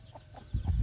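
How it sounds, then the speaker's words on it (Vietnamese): Chickens, including a big hen and a rooster, cluck in brief soft calls at a rural house where foundation work is underway, followed by a louder low rumbling thump of nearby activity. "Có gà to này, có gà trống rồi này."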